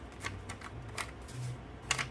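Scissors snipping a paper sticker sheet, a handful of separate crisp cuts spaced irregularly, heard close and quiet with no talk.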